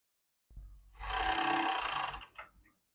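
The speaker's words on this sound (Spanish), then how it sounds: "y empiezo a coser." A sewing machine stitches textile scraps in one short run of a little over a second. It starts with a few soft clicks, then gives a close, buzzing whir before slowing and stopping.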